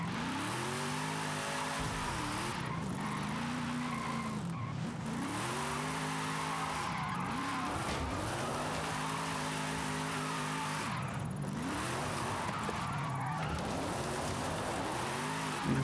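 In Forza Horizon 5, a car drifts through a drift zone, its engine revving up and down in repeated swoops while tires squeal and skid continuously, loud and close throughout.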